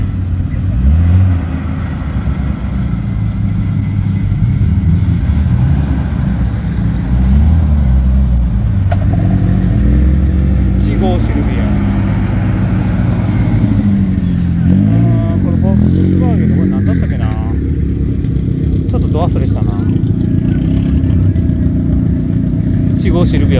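Nissan Silvia, a wide-body show car, rolling past at a car show at Ecopa stadium in Shizuoka, with a loud, steady engine drone and brief revs, heard close under continuous crowd chatter and other passing cars.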